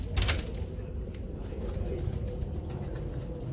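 Birmingham Roller pigeons coo softly while a quick burst of wing flapping sounds near the start, over a low, steady background rumble.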